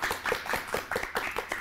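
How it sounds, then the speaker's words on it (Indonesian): Light, scattered hand clapping from a small group on a podcast set, a few quick uneven claps repeating over less than two seconds, fairly quiet and close. "beri tepuk tangan untuk Departemen Bakmi"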